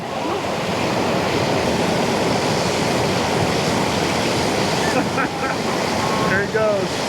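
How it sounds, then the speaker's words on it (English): Steady, loud rushing of falling water fills the whole stretch, a dense continuous roar with faint chirps near the end. "Go under the waterfall."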